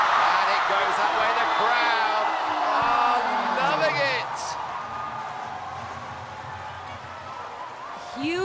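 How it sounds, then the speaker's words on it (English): Volleyball arena crowd at a VNL 2024 match between Japan and the Dominican Republic, a broad roar of cheering and whoops that swells early and then eases, with a commentator talking over it. "The crowd are loving it."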